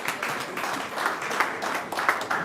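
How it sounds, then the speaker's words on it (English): Audience applause at a council gathering, a dense wash of many hands clapping steadily at moderate loudness for the whole stretch. "A round of applause for him."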